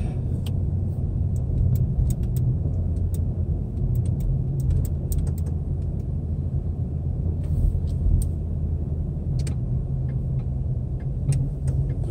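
A Ford Mustang running a race tune drives along with a steady, continuous engine rumble and road noise throughout, no one speaking.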